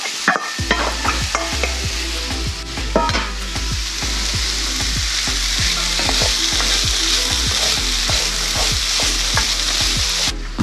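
Chopped jalapeño and roasted poblano peppers sizzle loudly in a hot pan, with a steady stream of close, rhythmic stirring scrapes throughout.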